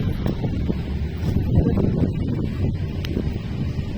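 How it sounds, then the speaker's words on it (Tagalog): Steady wind buffets the microphone with a low, rumbling roar, continuous and close, with faint rustling and occasional knocks beneath it, at Intramuros Golf Course. "Paka-fresh ang hangin. Mahangin nito guys."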